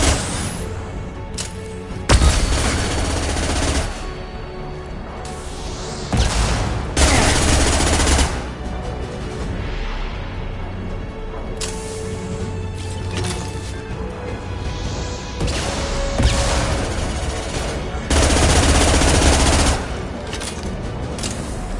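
Gunfire and flashbang blasts in the video game Mass Effect 2, rapid bursts of automatic fire and sharp explosions alternating with quieter stretches of ambient hum.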